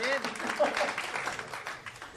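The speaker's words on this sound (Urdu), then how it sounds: "جی بھائی تالی تو بجاتے ہیں" Audience applause at a formal talk on minority microfinance organisations, a dense patter of many clapping hands at moderate distance, rippling on steadily throughout with a voice speaking over it.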